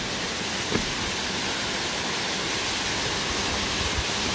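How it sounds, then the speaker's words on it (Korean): Ungye Falls drops about 20 metres into a rocky valley, its water breaking on rocks along the way and producing a steady, close, full rushing roar that runs without pause. "한 20m 정도의 높이에서 떨어져 가지고 이렇게 폭포 수들이 아래의 계곡으로 쭉 해서 바위 틈 사이로 쭉 해서 내려"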